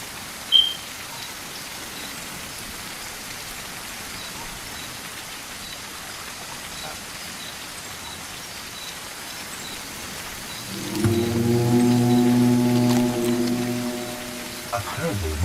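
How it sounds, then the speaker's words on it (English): Rain falls in the Blind Descent video game as steady, soft hiss throughout, with a louder, denser rainy wash swelling in near the end; a faint brief knock is heard early. "I think the rain puts the fire out,"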